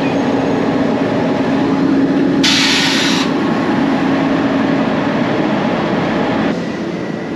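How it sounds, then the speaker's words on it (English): A Romanian locomotive couples onto the Budapest to Bucharest sleeper train: a steady close rumble with a sudden burst of hiss partway through, then the level drops slightly near the end. "The Romanian locomotive joining up now."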